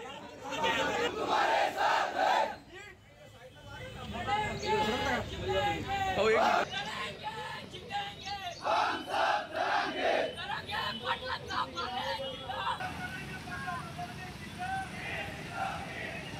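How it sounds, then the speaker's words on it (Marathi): A Maratha community protest march at the police superintendent's office in Beed, a large crowd chanting slogans loudly in rhythmic bursts, with chatter and a dense babble of voices running continuously throughout. "पोलीस अधीक्षक कार्यालयावर मोर्चा काढून जोरदार घोषणाबाजी करण्यात आली आहे"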